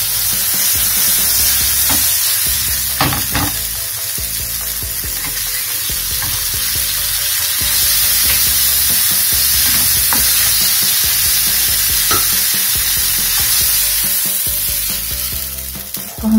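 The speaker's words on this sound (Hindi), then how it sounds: "पनीर हमारा हो चुका है, इसको अब हम ग्रेवी में डाल देंगे।" Paneer pieces are tipped into a hot dhaba-style masala gravy and stirred gently in a pan, giving a loud, steady sizzle broken by repeated scraping and clacking stir strokes, with no talking.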